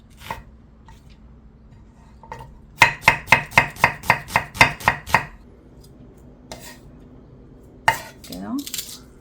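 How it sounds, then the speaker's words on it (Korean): Chinese chives sliced into short pieces with a knife on a cutting board, a rapid run of about ten crisp, evenly spaced chops, preceded and followed by a few scattered single knocks in a quiet kitchen. "부추는 짤막짤막하게 썰으시면 돼요."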